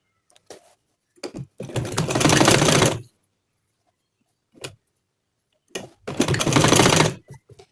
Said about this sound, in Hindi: अब इसको मैं यहाँ पर रखते हुए डबल फोल्ड करके इसके ऊपर मैं पूरी सिलाई लगाऊंगी